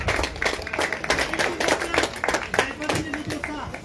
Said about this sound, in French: Allez, des applaudissements pour Nolan, Julien, Mathis, Morgane,